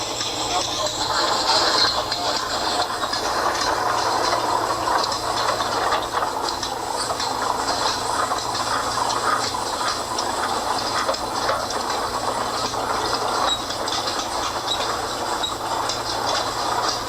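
Steam engine machinery running at a steam festival, giving a steady broadband hiss with a continuous mechanical rumble and faint clatter throughout, fairly loud and unbroken, with a hint of distant crowd noise.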